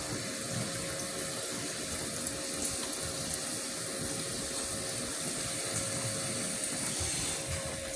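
Cold water pours steadily into a barrel after a float fault is fixed, a continuous rushing, splashing flow with no talk.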